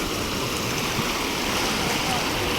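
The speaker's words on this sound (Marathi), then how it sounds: "इथून नीट जा का, पाणी लय वाहत आहे." Fast-flowing river water rushing over a shallow crossing, a loud continuous close roar and splash filling the whole moment.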